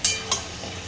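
Chicken pieces frying in a pan, a hiss of sizzling with two quick bright stirring scrapes near the start, close up and short.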